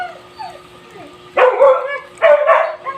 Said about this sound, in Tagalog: Kasi yun, tumatahol na